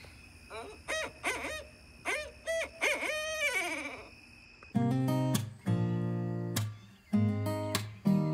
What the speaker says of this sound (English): It's a barred owl.